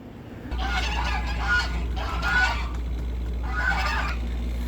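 Geese honk in three raspy, nasal bursts spaced a second or so apart, fairly close, over a steady low electrical hum.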